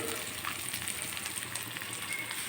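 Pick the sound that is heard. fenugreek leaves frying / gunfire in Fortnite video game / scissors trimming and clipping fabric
fenugreek leaves frying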